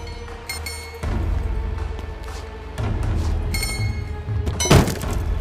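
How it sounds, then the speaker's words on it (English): A crowbar cracks open an old emergency kit in the video game Wanderer: a dull thunk and scraping over a low hum, then a sharp, bright crack of breaking near the end. "take this crowbar and crack open that old emergency kit"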